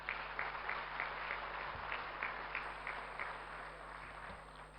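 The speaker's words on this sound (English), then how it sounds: "A big round of applause for him." Steady applause from a conference audience at the SOA auditorium during a CA conference, a continuous, moderately distant patter of many hands clapping under a low hum, fading slightly toward the end.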